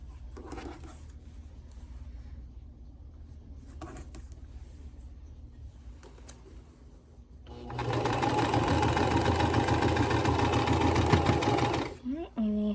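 A sewing machine stitches the last row of a quilt block in one steady, loud run of rapid needle hum lasting about four seconds, preceded by quieter handling sounds and a faint voice.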